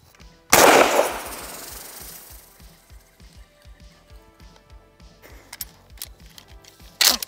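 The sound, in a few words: Maverick 88 Cruiser shotgun firing mini shells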